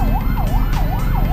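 Ambulance siren wailing in a steady rising-and-falling pattern over heavy traffic rumble on EDSA, loud and fairly close, with no talking.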